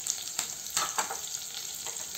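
Chillies, grated ginger and chopped curry leaves sauté in a little oil for an oats breakfast, giving a steady close sizzle with a few brief stirring scrapes, with no talking.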